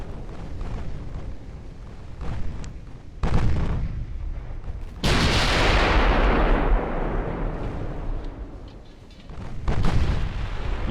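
Naval guns fire in the warship battle game Ultimate Admiral: Dreadnoughts, heavy booming salvos that hit one after another, the largest a long roaring blast that slowly fades away.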